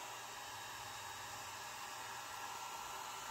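A hair dryer blows steadily on alcohol ink, a faint, even whooshing hiss of air that holds constant throughout with no voices.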